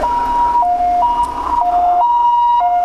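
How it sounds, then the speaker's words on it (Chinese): A fire truck or ambulance siren passes, loud and close, alternating between two pitches in a steady hi-lo pattern with no voices over it. "你只要听到那个消防车或救护车经过"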